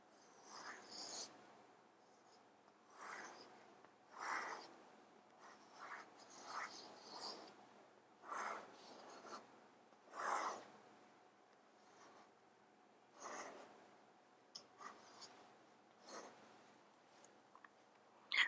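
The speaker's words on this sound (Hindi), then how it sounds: "मैं पहले इस वेद मंत्र को आपके समक्ष लिखता हूँ" A Vedic mantra is written out by hand in faint, soft scratching strokes that come in short bursts separated by quiet pauses, close and low in level.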